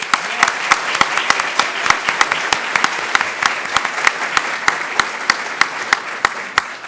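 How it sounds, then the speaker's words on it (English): Audience applause at a Latino education and advocacy day honouring a congressman, a steady dense clapping with sharp individual claps standing out, sustained throughout with faint voices underneath. "Let's do another round of applause."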